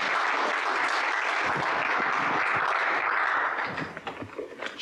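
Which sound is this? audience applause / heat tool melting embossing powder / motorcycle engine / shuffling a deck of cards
audience applause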